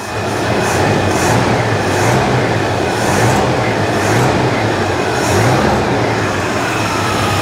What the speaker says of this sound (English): Sounds like the fan might be hitting the radiator.